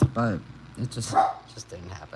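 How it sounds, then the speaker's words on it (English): Someone talks while a dog barks briefly nearby, a sharp bark at the start followed by fainter yips under his speech. "Please excuse my dog barking."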